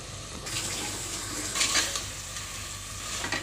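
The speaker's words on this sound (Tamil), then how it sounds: "இப்போ நல்லா வதக்கிக்கோங்க." Mutton being stirred and fried in a pan, a steady soft sizzle with scraping and stirring noises, near and continuous, with no talking.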